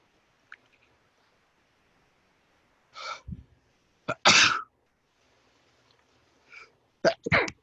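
Two or three sharp sneezes, each preceded by a quick intake of breath, burst out close to the microphone in an otherwise quiet room, with faint breathing sounds between them.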